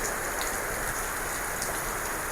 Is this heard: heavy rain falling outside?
yes